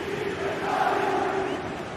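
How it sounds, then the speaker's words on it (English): Stadium crowd noise from a GT Sports football video game, a steady roar of cheering held at even loudness throughout, with no commentary over it. "Well, the crowd are certainly trying to motivate the team to push them forward to get the equaliser"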